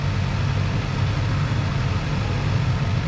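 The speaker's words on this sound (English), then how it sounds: "the 400 idles so low compared to like the ZX6" A Kawasaki Ninja ZX-4RR motorcycle with its stock exhaust idles low and quiet, a steady close engine rumble running evenly the whole time with no talk over it.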